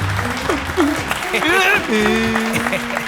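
Audience clapping in a dubbed action-thriller film scene, a loose burst of applause mixed under a voice and tonal background music.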